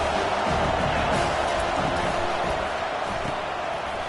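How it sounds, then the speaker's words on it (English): A loud stadium crowd at a Notre Dame football game roars in a dense, continuous wall of noise, with a commentator's voice faintly beneath. "Listen to this crowd just shaking the girders of this place"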